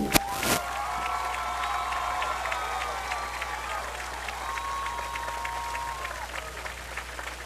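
Sustained crowd applause and cheers at a Tishomingo County High School football game honoring Coach Jerry Long, a broad steady roar of clapping with whistles and shouts riding over it from start to finish.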